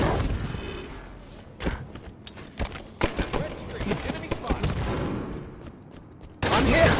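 Gunfire in a Halo 5: Guardians Breakout match: a run of sharp shots and thuds, some in quick bursts, with a loud blast near the end, heard under game voice callouts.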